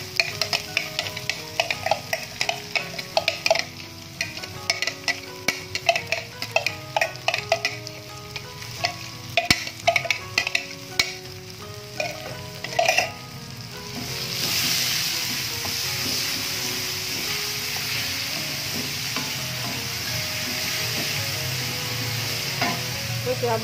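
Shallots, scallions, tomato and green chilies stir-fried for a home-style green chili fish, with a spatula clinking and scraping in quick irregular strokes over a sizzle that swells into a steady loud hiss partway through.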